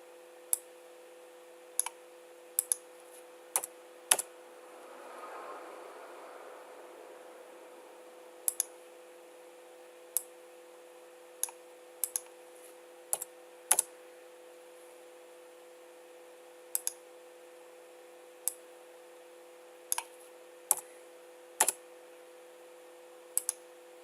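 Sharp, isolated computer mouse clicks, about twenty of them at irregular intervals in a quiet room over a faint steady hum, with one soft rustle partway through.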